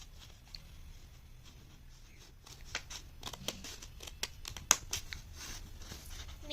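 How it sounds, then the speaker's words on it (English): Scissors cutting paper grass for an Easter bonnet craft, a series of quiet close snips and paper rustles growing more frequent toward the end over a faint room background. "Now we are gonna cut it."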